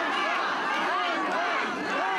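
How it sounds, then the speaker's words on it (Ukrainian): A crowd of mourners in Pryluky shouts at the acting city police chief, many overlapping voices yelling loudly and continuously at close range, with individual shouts rising above the din. "Його зустрічають вигуками «Ганьба»."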